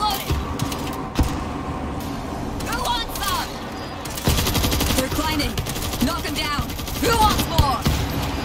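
Assault shotgun fire in the World War Z video game's New York level, repeated heavy blasts over constant battle noise, with players talking over the shooting.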